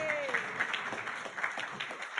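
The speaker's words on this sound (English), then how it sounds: "Come on, give them a big round of applause." Applause at a youth financial literacy forum, a soft, fairly distant patter of clapping hands with a voice briefly rising over it near the start.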